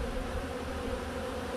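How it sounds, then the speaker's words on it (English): Honeybees fighting at a robbed hive box make a steady, dense buzzing drone. The hum holds constant and close with no pauses and no voices. "those bees are fighting each other"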